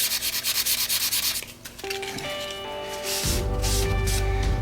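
Sandpaper rubs across a wooden cutting board in quick, even back-and-forth strokes, close and fairly loud, giving way to a steadier scraping hiss toward the end.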